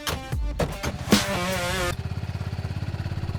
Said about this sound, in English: a high-octane off-road quad bike adventure around a farm